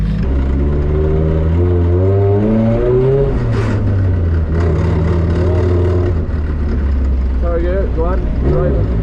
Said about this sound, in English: Give it a rev there.